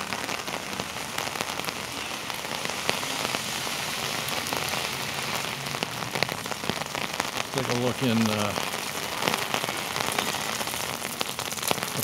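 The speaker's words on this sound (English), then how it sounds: "the rain is coming down" Heavy rain pours steadily onto a city street in Norwich, Connecticut, a dense constant hiss of drops on pavement throughout, with someone briefly speaking under it.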